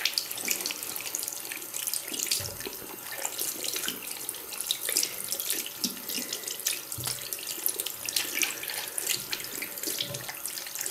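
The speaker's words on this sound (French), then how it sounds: "il ne nous reste plus qu'à rincer ce gant pour enlever le savon" Running tap water pours steadily into a sink while a makeup-removing glove is rinsed beneath it, a continuous close splashing hiss with soft irregular sloshes and no voices.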